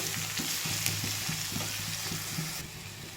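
Boiled pointed gourd peel frying in a wok gives a quiet, steady sizzle under a rhythmic series of low scraping stirs.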